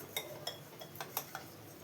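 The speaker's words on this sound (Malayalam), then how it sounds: "ഞാനിപ്പോൾ വിസ്ക് വെച്ചിട്ട് തന്നെയാണൊന്ന് ഇതുപോലെ ഒന്ന് കട്ടകൾ ഉടച്ചെടുക്കുന്നത്." A metal whisk beats wheat flour batter with water in a bowl to break up lumps, giving a series of quiet, sharp clinks against the bowl at an uneven rhythm with no voices.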